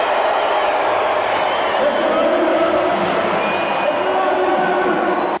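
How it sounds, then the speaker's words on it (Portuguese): A large crowd of Amazonas football fans cheers and whoops at Arena da Amazônia, a steady wash of roaring voices with scattered clapping, heard with speech over it. "a torcida amazonense fazia festa"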